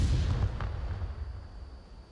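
A single flashbang grenade bursts in a competitive shooter match, a loud low boom that rolls off and fades over a couple of seconds.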